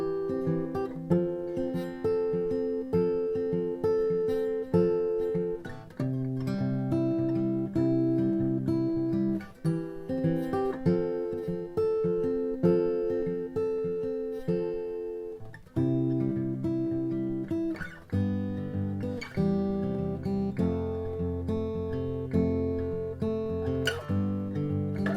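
Fingerpicked guitar works through a repeating arpeggiated pattern from part 2 of a song, with clear plucked notes ringing together at a steady, moderate tempo, close and solo, and the bass moving lower in the final stretch.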